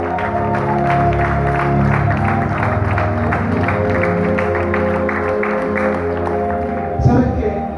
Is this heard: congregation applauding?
yes